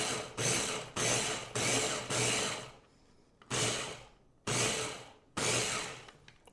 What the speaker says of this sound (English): I'm just gonna pulse it because I don't want it to grind too finely